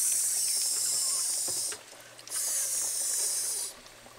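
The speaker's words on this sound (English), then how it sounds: "Now let's dunk them in the frying bath." Loud hissing and crackling of chicken deep frying in hot oil, pausing briefly in the middle before resuming, with no talking.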